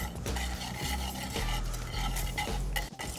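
Cold butter knobs whisked into a hot reduction in a pan for beurre blanc sauce, a quick rhythmic whisk scraping against the pan over a soft simmering sizzle.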